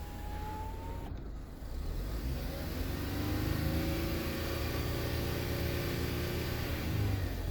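A 2015 Ford Fusion engine is revved to around 2,500 RPM, rising from a steady idle into a smooth, sustained higher-pitched drone heard from inside the car, with a short chime near the start.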